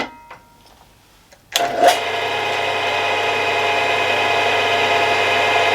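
A milling machine spindle with newly replaced bearings starts on its high speed setting, a quiet clunk, then a sharp spin-up into a steady, loud whirring hum that holds evenly without chatter.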